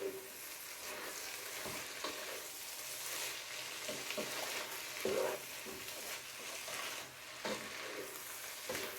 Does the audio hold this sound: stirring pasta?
yes